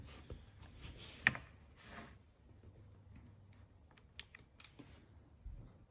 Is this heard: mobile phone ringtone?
no